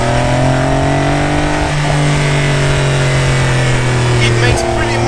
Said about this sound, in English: I'm a bit disappointed with how the exhaust of this car sounds like